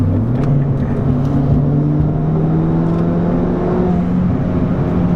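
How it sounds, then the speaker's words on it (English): Steady broadband road and tire roar fills the cabin of a stage 3 Ford Fiesta ST on the move, with a low engine drone shifting slightly in pitch as it drives, loud and continuous throughout. "I will say it is like a little noisy in here, like road noise, like tire noise and stuff."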